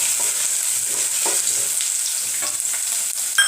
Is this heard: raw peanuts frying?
yes